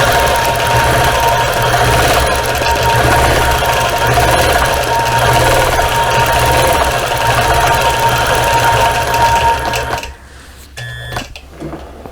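A quilting machine stitches over the fused edge of a butterfly appliqué, a steady close mechanical whir with a constant hum that runs unbroken for about ten seconds, then stops and leaves a few faint clicks and handling noises.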